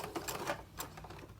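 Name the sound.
sewing machine back stitching a seam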